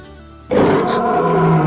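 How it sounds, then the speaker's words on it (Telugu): A tiger roar bursts in after a brief quiet lead-in, loud and close, sustained as a deep rumbling growl for over a second with no talk over it. "పులి"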